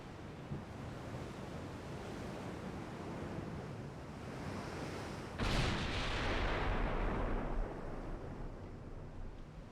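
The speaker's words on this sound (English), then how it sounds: "the St. Louis is open fire" Heavy warship guns fire in the Ultimate Admiral Dreadnoughts naval game as a broad roaring blast strikes about halfway through, rising over a steady wash of sea and wind, then rumbles on loudly before slowly fading.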